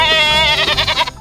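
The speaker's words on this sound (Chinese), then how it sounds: "小羊就在上面紧紧跟着，还一直咩咩的叫着加油" A single young goat lets out one loud, close, wavering bleat lasting about a second.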